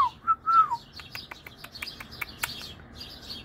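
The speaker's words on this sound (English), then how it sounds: "That's my parrot." A pet parrot gives a few clear whistled notes at the start, then a rapid series of sharp, close chirps and clicks, fairly faint and without talk.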